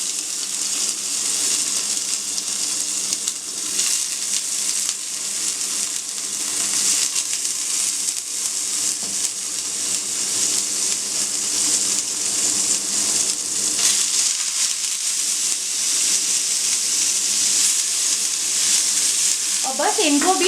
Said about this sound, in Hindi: और बस अब मैं फिर से 1 टीस्पून ऑयल में अपने पनीर क्यूब्स को भी फ्राई कर लूँगी।